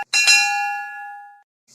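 A single bright bell ding strikes and rings out with a clean sustained tone that fades over about a second, followed by a faint brief tail, with no talk.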